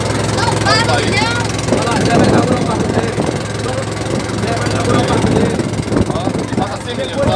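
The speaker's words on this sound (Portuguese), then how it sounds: "Passeando de lancha aí, ó." Motorboat engine droning steadily during a ride around the Aratu naval area near Salvador, Bahia, with water splashing and people talking and calling out over the constant hum.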